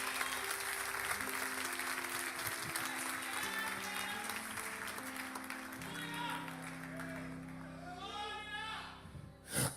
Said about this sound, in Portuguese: levante a sua mão, dê um brado de glória ao Senhor e aplauda Ele esta noite.